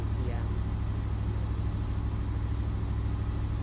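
A slow boat's exposed engine beside the toilets at the stern drones steadily, a loud, constant low throbbing hum that never lets up.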